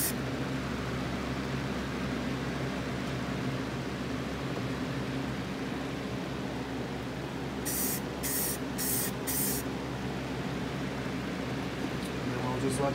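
Four quick bursts of spray paint, a second coat laid onto screw heads for Chevelle headlight trim bezels, hiss briefly over a steady background hum.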